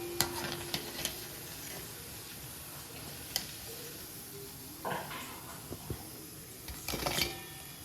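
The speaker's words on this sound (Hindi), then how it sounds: "मीडियम फ्लेम पे हमें इसे फ्राई करना है" Bada dumplings fry in oil over a medium flame, giving a soft, steady sizzle with scattered clinks and taps of a utensil against the pan; no voices.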